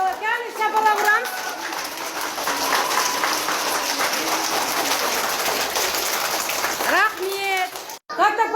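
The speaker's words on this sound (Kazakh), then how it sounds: "Жарайсыздар, балалар, кәне шапалақ ұрамыз." Kindergarten children in a group play session clap together in a dense, pattering burst lasting several seconds, sounding almost like rain. An adult's voice speaks briefly just before and again right after the clapping.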